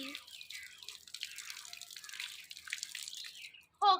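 Tap water runs into a sink during washing, a faint, steady trickle and spatter close by, broken off near the end by a short burst of louder sound.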